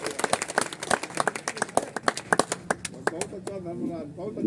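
An audience at a live Hindi comedic poetry gathering claps in a brisk series of sharp, fairly close claps that thin out toward the end while a voice carries on underneath.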